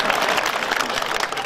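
Audience at a Hindi poetry gathering clapping, a brief, dense burst of many hands close by.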